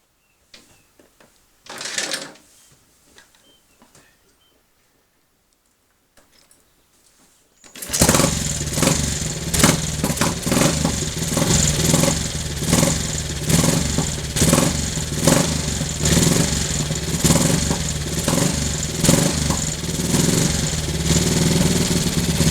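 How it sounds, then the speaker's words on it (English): A Triumph Tiger Cub motorcycle engine fires after a few quiet clunks and brief attempts, then settles into a loud, steady, close idle with a rapid rhythmic thump, with no talk. "So let's just put this camera down a moment and start it up and have a listen."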